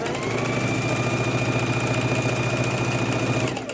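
Sewing machine stitching the first border onto a quilt, a steady continuous motor whir with rapid needle rhythm, close and even throughout before slowing at the end.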